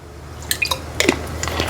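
A spoonful of water is poured into a mixer jar holding fresh grated coconut and salt for jamun fruit tambuli, giving a few quick close drips and small clinks at the jar.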